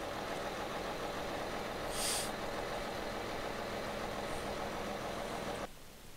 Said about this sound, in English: This has got the diesel engine in it.